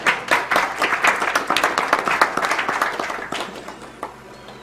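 Audience applause at a speedrun marathon event, a dense burst of many hands clapping that fades gradually toward the end.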